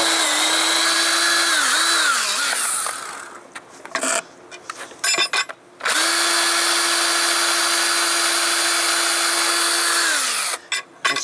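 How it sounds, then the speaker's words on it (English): A power drill boring a hole in an icy part of a Woodmizer LT15 sawmill whines at a steady pitch in two long, loud runs, broken by a pause filled with scraping and knocking. "somebody had said to drill a hole in here"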